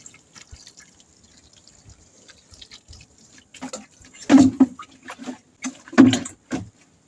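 Water poured onto soil and manure during planting, heard as faint scattered drips and trickles at first, then several louder splashing pours close by.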